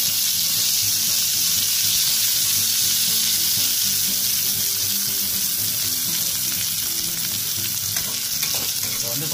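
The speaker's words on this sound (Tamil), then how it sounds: "இப்போ நெய்யில் ஓரளவுக்கு வெங்காயம் வதங்கிடுச்சு" Onions fry hard in ghee in a pan for egg biryani, a loud, steady, close sizzle with stirring scrapes throughout and no speech.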